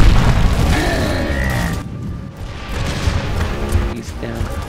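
A loud close explosive blast booms in the middle of a video game firefight, followed by a rumbling decay and scattered crashes and gunfire, with brief voices in the mix.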